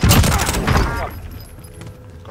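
A loud burst of gunfire in a shooter video game, rapid shots and impacts for about a second, then fading into quieter game sounds with a voice mixed in.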